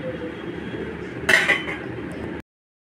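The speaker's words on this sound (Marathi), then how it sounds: "आता मी गॅसवर कढई ठेवते।" A metal wok set down on a gas stove gives a brief clinking clatter midway, heard over a low steady kitchen hiss before the sound cuts off abruptly.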